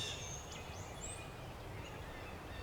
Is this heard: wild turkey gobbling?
yes